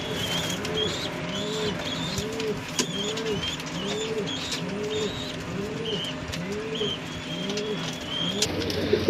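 Pigeons coo in a steady, repeating rhythm, soft throaty calls overlapping one another close by, with faint higher chirps in the background.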